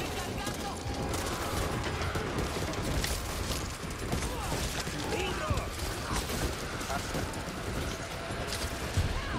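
Gunfire in the zombie shooter game Back 4 Blood, rapid bursts crackling continuously amid dense game noise, with a player's voice talking over the action.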